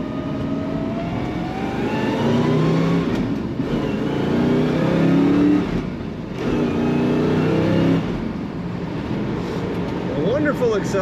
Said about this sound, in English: Lots of pull from that strong motor and a great rumble at the back of this car.